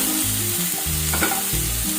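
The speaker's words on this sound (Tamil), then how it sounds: "கொஞ்சமாக வதக்கிக்கோங்க." Finely chopped onion sautés in hot oil at a steady, close sizzle for a couple of seconds while preparing mutton keema, with a faint stir or scrape partway through.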